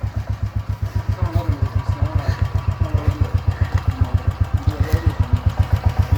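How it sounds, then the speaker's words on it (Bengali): Royal Enfield motorcycles pulling away on a mountain road trip, a close, loud thumping single-cylinder beat with even rapid pulses and slight revving. "এরা বেরিয়ে যাচ্ছে, রয়্যাল এনফিল্ড।"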